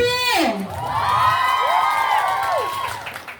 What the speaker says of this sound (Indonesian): Tepuk tangan untuk paslon 1.